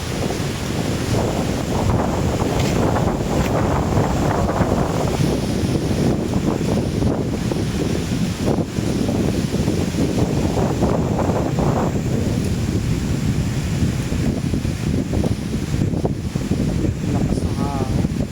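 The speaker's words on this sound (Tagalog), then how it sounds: "Parang may bagyo ng hangin" Loud, sustained wind roars and buffets the microphone, with surging gusts and faint voices buried underneath.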